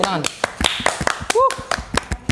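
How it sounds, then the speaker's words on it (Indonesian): Several sharp hand claps ring out in a quick scattered run, close and loud, mixed in with lively chatter and a laugh from people in a podcast studio. "Wih, tepuk tangan."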